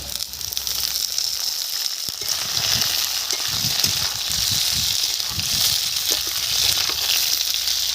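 Ridge gourd, added to a pan after potatoes have been fried, sizzles in hot oil with a steady, bright hiss and occasional stirring scrapes, close and continuous.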